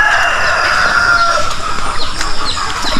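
Chickens cluck and a rooster crows loudly and close by on a farm field, with the crowing rising clearly over a steady bed of hens' chatter.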